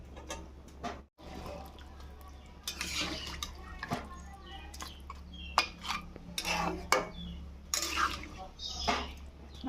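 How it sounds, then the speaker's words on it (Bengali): Beef sautéed in a pot and stirred now and then, giving close clinks and scrapes of a utensil against metal over a low hum, with bursts of moist sizzling between strokes. "এবার কিছুক্ষণ এটাকে কষিয়ে নেব।"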